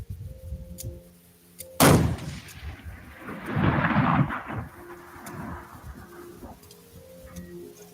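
A long-range rifle fires at a target about 1220 away, a single sharp loud crack followed by a rolling echo that swells and fades over several seconds, heard outdoors with no speech.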